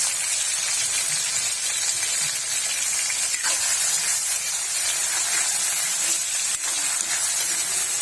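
Onions sautéing in a pan with freshly made alamang (tiny shrimp paste), a continuous close sizzle and hiss that stays loud and even, with a couple of brief clinks.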